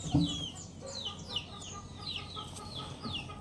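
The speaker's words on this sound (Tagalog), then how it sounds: "Ito yung ating bulik. Meron siyang halak." A gamefowl chicken suffering from a respiratory condition makes close, quiet clucks and short chirping calls, with a faint rattling breath running beneath them.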